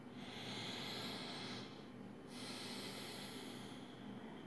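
Slow, steady breathing during a guided meditation, soft and faint, with long even inhales and exhales drawn close to the microphone and no talking.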